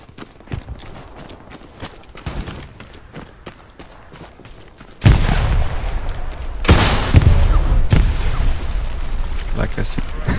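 Gunfire in the World War II shooter game Hell Let Loose, sharp cracks and booming reports that grow loud and dense halfway through, mixed with rumbling explosions.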